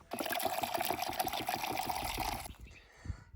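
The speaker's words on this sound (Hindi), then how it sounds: "मेरे जो प्लांट्स लगे हैं उनमें पानी रिफ़िल कर लेता हूँ" Water runs into a plant watering system in a Himachali hill village, a close, steady trickling fill with a rapid bubbling pulse that cuts off near the end, followed by a few faint knocks.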